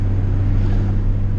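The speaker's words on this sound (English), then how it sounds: "I'm just varying my throttle position back and forth" A turbocharged Honda Civic GSR EG hatchback engine held at a steady throttle, a deep continuous droning hum, loud and close, with wind noise over the microphone and no talking.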